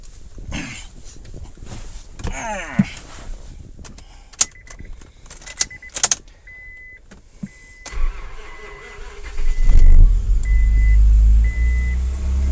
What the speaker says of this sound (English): Let's try to give her some gas.